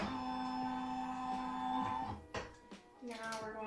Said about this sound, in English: Okay, so the embroidery carriage unit will move.